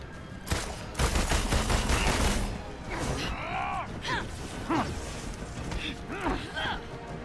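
Pistol fire in the Marvel's Avengers game, a dense burst of rapid shots over the first two seconds, then scattered hits and impacts. A voice talks through the clip.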